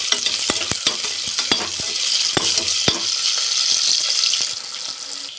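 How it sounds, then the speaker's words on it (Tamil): Onions sautéing in a pan for Karnataka-style plain biryani (kuska), a steady close sizzle with repeated sharp clicks of a spoon stirring against the pan, no one speaking. "இப்போ இதில் வெங்காயம் சேர்த்துக்கலாம். வெங்காயம் ஒரு 2 நிமிஷம் வதங்கினா போதும்."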